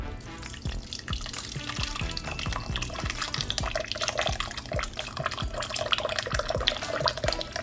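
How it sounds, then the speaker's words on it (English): Birria taco sauce poured from a crock pot into a strainer: a steady, close liquid pour with splashing and dripping, running continuously throughout without speech. "we're gonna pour the sauce from the crock pot into the strainer"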